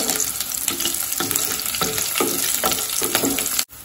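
Dried red chillies fry in hot oil for a milk-based bottle gourd curry, a loud, close, steady sizzle broken by regular stirring strokes before it cuts off suddenly.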